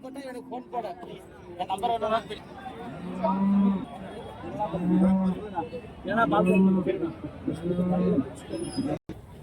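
Cattle moo loudly four times in a steady rhythm at a village cattle market in Karimangalam, Dharmapuri, where milking cows and pregnant cows are sold, with people talking throughout.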